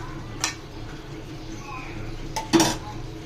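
A lid goes onto a cooking pot of whole tomatoes for a Bengali shrimp dish, landing with a couple of close metallic clinks and a final louder clank against quiet kitchen background.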